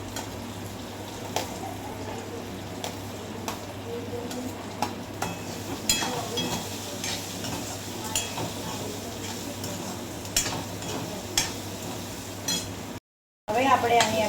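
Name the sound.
sautéing chopped onions in a pan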